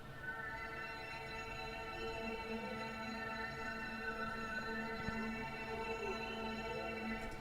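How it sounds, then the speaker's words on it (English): A Roland D50 synthesizer atmosphere patch plays solo, a sustained, shimmering pad of layered steady tones that holds evenly for several seconds without breaks. "But this is the D50 patch soloed."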